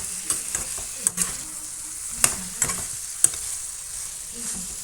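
Meat and kohlrabi frying in a pan, a steady sizzle broken by several sharp scrapes and clinks of a utensil stirring, close and fairly quiet, with no voices.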